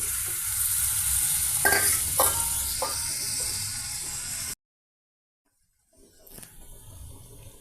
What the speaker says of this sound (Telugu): మూడు పెద్ద సైజు టమాటా పీసెస్ని ఇందులో యాడ్ చేసేసామండి.